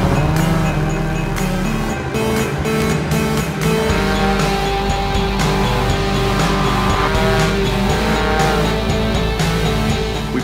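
Snowmobile running along a rough snowy trail, a close, loud engine roar with repeated surges and bursts of revving, plus the clatter of the track over bumpy terrain, continuous throughout.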